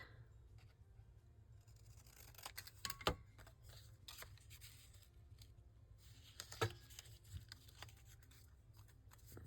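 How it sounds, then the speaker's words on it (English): Scissors cut across a paper craft tag, quiet snipping with two sharper crunchy bursts of cutting, surrounded by faint rustling and handling of paper. "I'm going to cut across."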